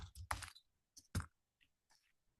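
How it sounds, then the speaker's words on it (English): Bursts of quick keyboard typing on a computer, a few rapid clustered keystroke clicks followed by sparser, fainter taps, close and dry with no talking. "I'm typing too fast."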